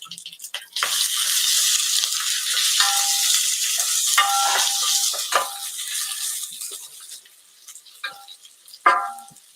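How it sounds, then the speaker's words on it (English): Beet stems boil in a pot on a stove, giving a steady hissing bubble that lasts most of the stretch, with a few clinks and knocks of utensils near the end. "Now my stems are boiling"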